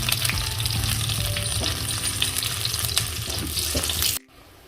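Garlic sizzles loudly in hot oil with mustard seeds for a dal tempering, a dense continuous hiss with small crackles and stirring, cutting off abruptly near the end.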